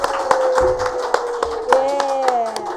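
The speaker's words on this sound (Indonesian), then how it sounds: "Sekian, kita tepuk tangan." Audience applause at a stand-up comedy show in Kupang, a burst of clapping hands with sharp irregular claps over a background voice, fairly close and moderately loud, with speech mixed in.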